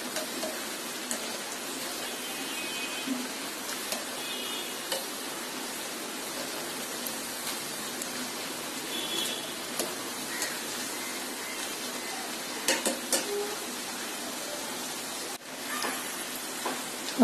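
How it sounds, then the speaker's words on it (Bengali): Potato pakoras deep-frying in hot oil, a steady, dense crackling sizzle with scattered pops that runs the whole time, close by and without speech. "পাকোড়াগুলি ভাজা হয়ে গেছে। এরকম লাল করে ভেজে দিতে হবে।"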